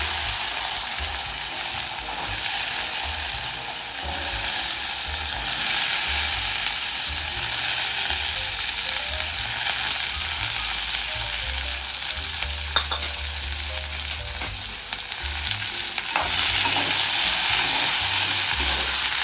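Loud, steady sizzling of garlic frying in hot oil for tempering, continuous and close, with occasional faint clicks and scrapes of a utensil.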